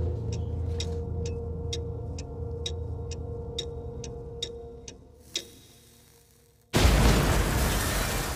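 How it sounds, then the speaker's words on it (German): A clock ticks steadily and faintly in a quiet room until a bomb hidden under a table in a wartime camp barracks detonates, a sudden, loud, roaring blast that fills the remaining seconds. "Plötzlich eine Explosion. Eine Bombe, platziert unter dem Tisch der Lagerbaracke."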